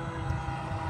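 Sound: 3D printed RC boat motor driving on water

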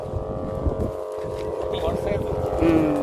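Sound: big kite humming in the wind

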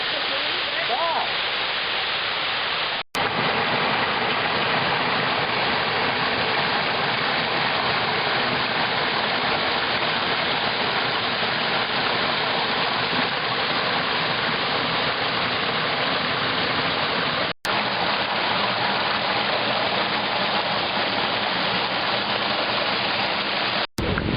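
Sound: waterfall at Sukil village, Ukraine

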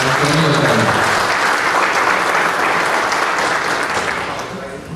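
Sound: audience applause

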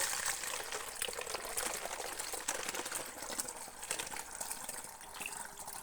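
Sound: water poured through funnel into plastic bottle

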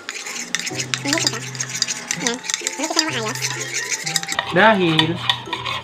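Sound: stirring a face mask mixture with calamansi

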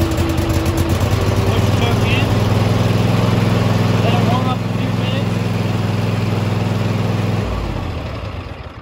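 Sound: Husqvarna Z254 zero-turn riding mower engine starting and running

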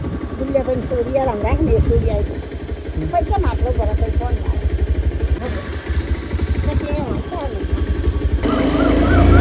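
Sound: motorcycle engine starting and running

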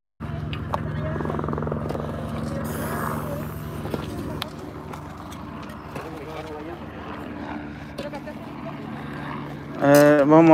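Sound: helicopter flying over a hillside fire

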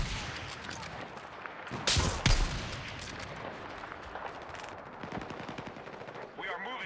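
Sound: gunfire in video game Battlefield 6

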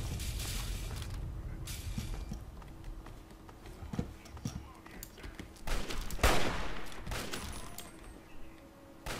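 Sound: gunfire in the video game Fallout 3

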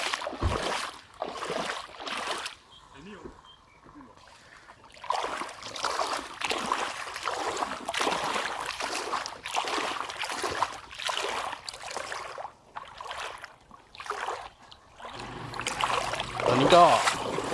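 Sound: fishing boat on floodwater

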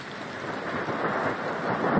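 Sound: rain with thunder

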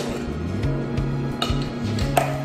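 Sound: whisking dry ingredients with salt and baking powder

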